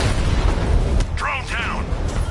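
A drone exploding in the Batman: Arkham Knight game: a loud, rumbling boom and crackle that sustains throughout, with a short electronic warble partway through.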